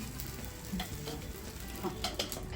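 A sabudana-bhagar uttapam for a Navratri fast sizzles steadily in a pan as ghee is added, with small pops and crackles rising over a continuous frying hiss, close and alone.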